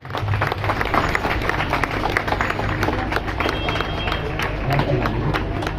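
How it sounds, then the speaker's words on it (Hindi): Crowd applause at a campaign rally, steady dense clapping filling the whole stretch, loud and close, with a voice talking over it. "एक बार जोरदार तालियां पीछे तक,"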